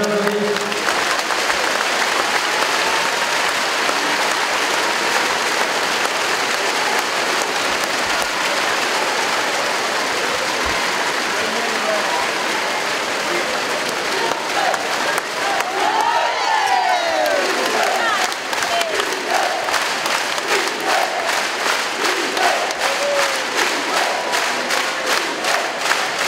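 A large crowd applauds and cheers nonstop with loud, sustained clapping and whoops, while occasional voices rise briefly out of the roar.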